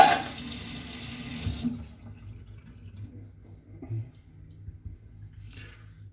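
Tap water runs steadily into a cooking pot for about a second and a half, a loud broadband rush that stops abruptly, followed by quiet kitchen handling noises and a faint clink.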